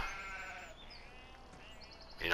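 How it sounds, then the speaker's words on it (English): Sheep bleat in the Farming Simulator 17 BallinCraig Estate map, heard faintly and thinly over a quiet ambient farm background, with a louder burst right at the end. "That'd be your sheep."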